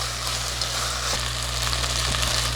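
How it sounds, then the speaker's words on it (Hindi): Chicken corn soup ingredients fry in a pan with a soft, steady sizzle, a low continuous hiss with a faint hum beneath, close and even throughout, no talking. "2 मिनट इसे अच्छे से भून लेंगे"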